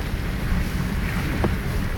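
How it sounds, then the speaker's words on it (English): A vehicle pushes through deep floodwater on a Houston street after Hurricane Harvey, giving a steady, close wash of churning water and low rumble with a brief brighter splash near the end. "I wonder if you can hear that audio of me driving through the water."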